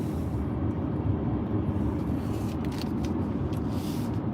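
Car traffic heard from inside a car driving along the Sunset Strip in the Beverly Hills area, a continuous low road rumble with passing vehicles swelling faintly toward the end, and no talking.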